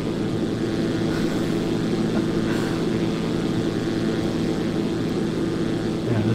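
A Zlin Z-142 propeller plane engine in a freeware flight simulator during aerobatics, droning loudly and steadily throughout with no pauses.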